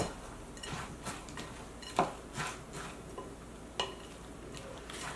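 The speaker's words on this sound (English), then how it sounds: "Kind of scramble my egg a little bit as we're going. And fold it all together." A utensil stirs and folds a scrambled egg mixture in a pan, making quiet, scattered clinks and scrapes, with a few sharper taps among them. It is soft and close, and nobody speaks.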